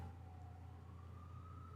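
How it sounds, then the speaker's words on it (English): A siren wails outdoors, faint and distant, its pitch slowly rising as it drones steadily over low background rumble, with no voices. "Obnoxious, loud siren."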